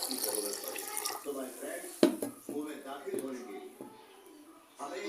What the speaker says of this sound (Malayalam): ഇനി നമുക്ക് വെള്ളം ചേർത്ത് കൊടുക്കാം